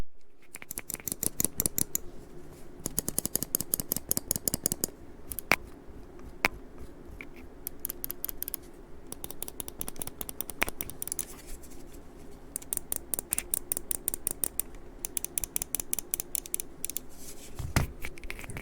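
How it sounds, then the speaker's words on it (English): Model O Wireless mouse buttons clicked in rapid bursts of crisp, sharp ticks, left and right, very close and alone, with short pauses between runs of clicks. "The left click or right click are really crisp."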